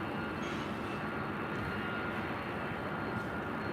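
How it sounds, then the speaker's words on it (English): A Boeing 747-8 Intercontinental jet roars at LAX, a loud, close engine rumble with a broad, steady rushing noise that holds for the whole stretch. "It's flight 457 heading back to Frankfurt and that 747-8 Intercontinental."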